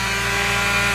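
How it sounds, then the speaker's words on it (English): A palm sander fitted with a 60 grit pad buzzes steadily against a carbon steel fry pan, a close, continuous high-pitched grinding drone without pause. "How about this 60 grit sanding pad on my palm sander?"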